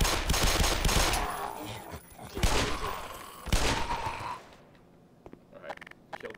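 Gunfire in the shooter game Black Mesa, rapid bursts of shots for about four seconds with brief gaps, then fading into quieter mechanical clicks and creaks.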